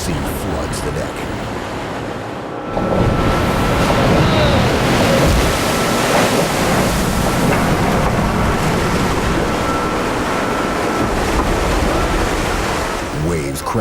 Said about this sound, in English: Waves crashing over the stern can easily sweep a crew member into the icy, churning sea